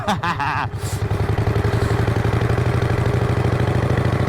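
A 1951 Harley-Davidson EL Panhead with a foot clutch and no front brakes is ridden with its engine close and loud, giving a steady, rapid, evenly pulsing beat. A brief voice is heard at the start.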